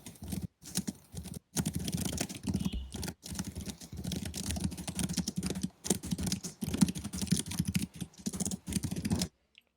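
Rapid computer keyboard typing, close and steady, with dense irregular key clicks running continuously for several seconds before stopping abruptly.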